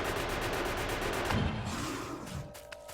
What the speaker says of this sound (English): I like that worm sound.